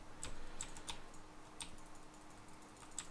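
Faint, scattered keystrokes on a computer keyboard: a handful of light clicks spaced irregularly over a low steady background hum, with no talking.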